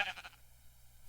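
A sheep in Minecraft with the Tinkers Construct mod gives one short, quiet bleat at the start, followed by near silence.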